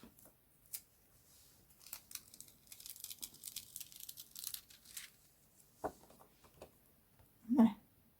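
Thin backing film is peeled off a foiled card in a quiet room, making soft intermittent tearing and crinkling rustles that end in a louder crackle.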